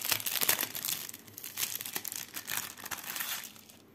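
Plastic packaging crinkles and crackles while a cross-stitch kit is opened, close and fairly soft, in irregular handling bursts that taper off near the end.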